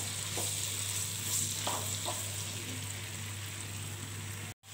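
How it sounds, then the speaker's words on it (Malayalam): Onions sautéing in a pan for fried chicken dum biryani, giving a constant loud sizzle with a few soft stirring knocks, no voices, ending in a sudden brief cut. "സവാള ഒന്ന് നല്ലോണം ബ്രൗൺ ആവണ വരെ ഒന്ന് വഴറ്റണം."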